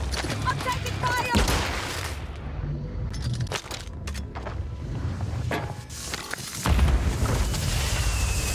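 Call of Duty gunfire crackles in rapid bursts and booms through a dense, loud game mix, with a player's voice talking over the shooting.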